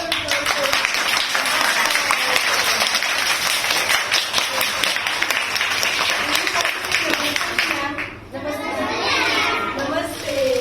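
Children in a school class applaud for First Lady Melania Trump at a Delhi school, a loud sustained clapping that runs several seconds, dips briefly, then swells again with young voices chattering around it.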